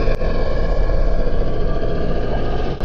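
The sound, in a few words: giant sea monster roar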